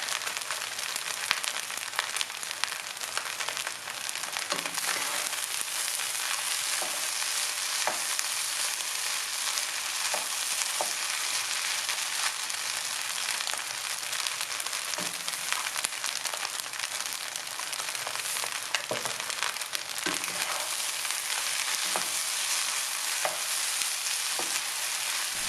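Egg fried rice with soy sauce sizzles steadily in a hot pan while being stirred, with periodic scraping knocks of the utensil against the pan throughout, close and fairly loud, with no talking.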